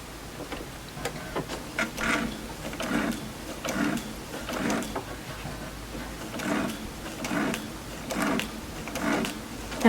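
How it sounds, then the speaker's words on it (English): A sewing machine stitches slowly through bulky layers of quilting fabric for a curved cabin block, giving a rhythmic series of soft mechanical thumps at an unhurried, slightly uneven pace, with no talking. "I'm just going to stitch very slowly."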